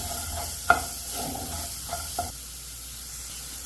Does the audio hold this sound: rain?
no